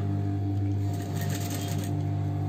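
A sewing machine stitches lining fabric for a child's balloon frock, giving a steady, loud, close motor hum with even mechanical whirring throughout and no talking.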